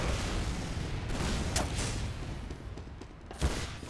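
Gunfire in Freak Fortress, a Team Fortress 2 mod, sits under a constant loud wash of game noise, with a few sharp shots cutting through and one heavier bang near the end.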